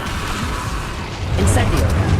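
An Incendio fire spell is cast in a Hogwarts Legacy fight, giving a dense, roaring whoosh of flame over constant game noise, with a brief bright burst partway through and a shouted voice.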